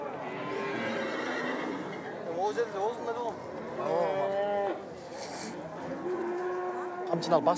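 A calm cow at a nomad yurt camp in Kyrgyzstan moos several times, the drawn-out, wavering lowing close and loud, with a few short gaps between calls.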